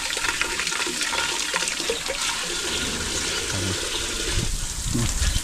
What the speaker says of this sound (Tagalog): Lagyan ng tubig yung kaldirin ni Goy Goy.